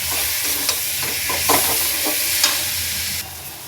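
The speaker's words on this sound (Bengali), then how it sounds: "এবার একটু মশলার সাথে কষিয়ে নেব" Boiled meat sautéing with spices in a little oil, a close, steady sizzle broken by a few stirring scrapes, ending in a brief quieter moment, with no talking.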